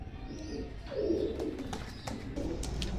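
Pigeons of fancy breeds, such as teddy and rabbit types, coo softly and close by, with low throaty murmurs rising in the middle of a quiet indoor setting and faint higher chirps scattered through.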